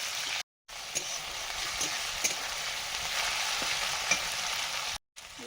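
Chopped tomato fried with ginger and garlic, a continuous close sizzle with occasional stirring scrapes and clinks, steady and fairly loud with two brief dropouts.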